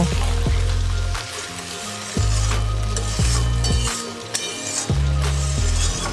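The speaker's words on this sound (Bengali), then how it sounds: "এবারে সব কিছুকে জলের সঙ্গে ভালো মতো মিশিয়ে নিয়ে কিছুক্ষণ ফুটতে দেবো" Katla fish curry simmers with added hot water in a pan while being stirred, giving a steady sizzle with scraping, clinking stirs throughout and no voices.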